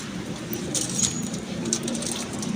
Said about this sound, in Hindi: और एक चीज़ है वसीम भाई, आप भी बड़े बड़े कबूतरों को दिखाते हैं